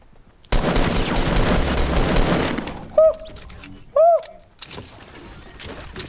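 Gunfire in the video game Fortnite bursts out as a dense, continuous volley for about two seconds, followed by a couple of sharp electronic tones and fainter game sounds.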